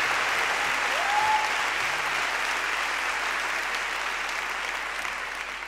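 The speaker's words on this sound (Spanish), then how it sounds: "un aplauso por el aguante" Concert audience applauding for the band, a broad, sustained wash of clapping that tapers slowly toward the end, with a brief whistle near the start.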